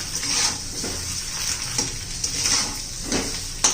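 Eggs sizzle as they are sautéed in a pan for a yogurt egg curry, a steady frying hiss broken by occasional soft stirring scrapes, close and moderately loud.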